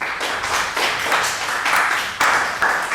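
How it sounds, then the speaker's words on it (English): Clapping from a small group for a speaker, moderately loud and close, irregular bursts swelling and dipping over a few seconds, with no voices. "Let's give him a round of applause"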